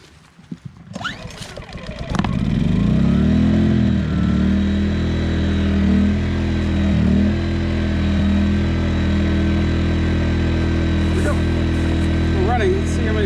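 A Yamaha EF2200 portable generator is pull-started with the choke out, sputtering briefly before catching at about two seconds and settling into a loud, steady, close engine drone.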